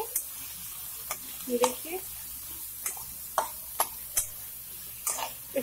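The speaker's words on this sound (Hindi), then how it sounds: "सारी सब्जी हमने इसमें अच्छे तरीके से डाल दी है, अब इसको हम अच्छे तरीके से भून लेंगे।" Chopped onion and other vegetables sizzle and fry in a kadhai for pahadi Maggi, with a spoon scraping and tapping the pan at a steady rhythm while someone talks.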